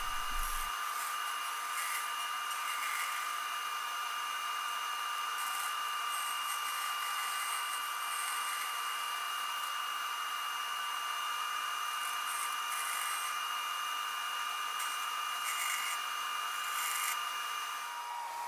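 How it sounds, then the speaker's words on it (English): Bandsaw cutting Lexan lips for handmade square bill crankbaits, a steady high-pitched whine and hiss that holds for the whole stretch at moderate level, close by with no voices. "I headed to the bandsaw once again and started cutting these lips for my crankbaits"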